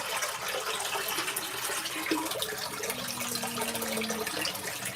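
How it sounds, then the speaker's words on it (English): An LG ThinQ MEGA washing machine on its final spin after a darks cycle rinse, giving a steady wash of churning water and drum noise with a faint rising whine, continuous and fairly loud throughout. "So that's the final spin."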